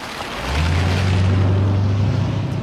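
A Bentley T2's 6.75-litre V8 engine rises into a deep, steady rumbling drone that holds loud and constant, with a low throb and broad noise above it.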